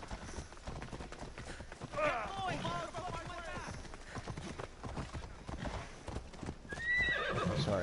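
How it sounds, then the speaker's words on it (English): Horse in a video game neighs and whinnies over steady clip-clopping hooves, loud and close, with a person talking over parts of it. "I know my horse is right there"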